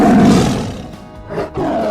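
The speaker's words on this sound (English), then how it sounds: "Let's listen to a tiger roar." A tiger roars loudly up close, one powerful drawn-out roar followed by a second shorter growl, with no other sound.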